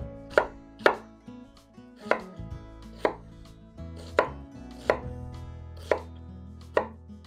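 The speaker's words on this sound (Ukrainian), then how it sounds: "Цибулю теж нарізаємо як зручно, я ось так на пів кільця." A knife chops through an onion on a cutting board with about ten sharp, crisp cuts at a loose, unhurried rhythm, close up and otherwise quiet.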